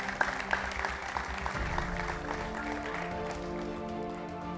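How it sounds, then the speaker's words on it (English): Audience applause at an Ogun State quiz competition semi-final, a steady wash of clapping over a low hum that holds at an even level for several seconds with no voices on top. "A round of applause for SD Holdings."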